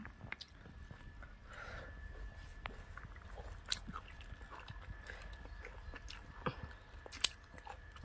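Someone chews a mouthful of cooked dhekhi shak wild fern greens, giving soft, close, quiet mastication with a few sharper crunchy bites and moist squishes and no talking.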